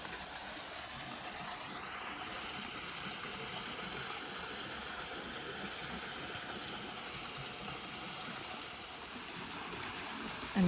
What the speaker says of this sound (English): the water that's coming from the top one is going down underneath into that one right there